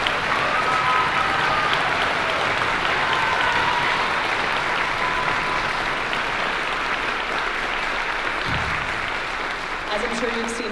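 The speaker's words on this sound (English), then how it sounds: "Let's give them a round of applause." Audience applause at a high school concert honoring the bass section singers, a full, sustained clapping from a large crowd that carries steadily throughout and thins slightly near the end, with scattered voices beneath.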